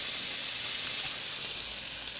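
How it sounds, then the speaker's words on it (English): Burger patties sizzle in a hot pan for cheeseburgers, a steady, dense hiss filling the whole stretch with no pauses or voices, close and even in level. "Listen to that sizzle."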